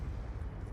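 A deep, rumbling blast from an explosion in the video game Black Ops 2 fills the whole moment, a sustained low roar like an explosion's aftermath, loud and close with no voices.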